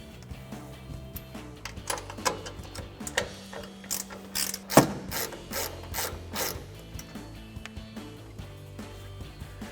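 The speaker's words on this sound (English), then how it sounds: "we'll take a 14mm ratcheting wrench" A 14mm ratcheting wrench loosens the strut tower nuts on a vehicle, giving a quiet, close run of rapid ratchet clicks in uneven spurts with small metallic taps in between.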